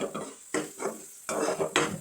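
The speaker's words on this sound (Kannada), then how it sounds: "ಆ ಎಣ್ಣೆ ಬಿಡೋವರೆಗೂ ಸ್ವಲ್ಪ ಲೋ ಫ್ಲೇಮಲ್ಲೇ ಇಟ್ಕೊಂಡು ಚೆನ್ನಾಗಿ ಫ್ರೈ ಮಾಡ್ಕೊಳ್ಳಿ" Coconut-mustard rice paste frying in oil in a pan over a low flame, with soft sizzling and repeated stirring scrapes in short bursts, close by and moderately quiet.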